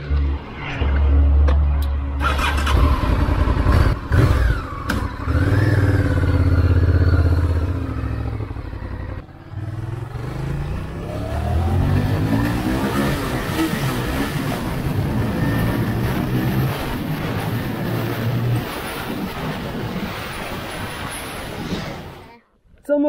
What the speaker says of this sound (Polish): Maszyna chodzi jak nowa. Naprawdę świetnie chodzi.